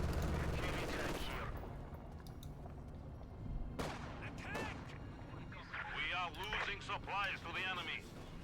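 Light machine gun bursts in Company of Heroes 2, a battle of Wehrmacht against Soviet forces, rattling in rapid volleys among other distant battle noise while a commentator talks over it.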